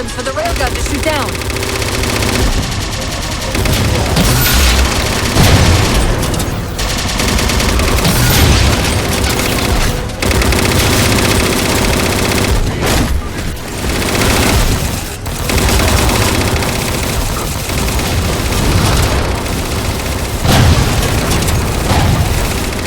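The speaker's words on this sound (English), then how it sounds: "Target those phantoms for the railgun to shoot down." Heavy railgun blasts and explosions in Halo 4 as Phantom dropships are shot down, loud repeated booms and gunfire layered under a dense battle mix with music and voices.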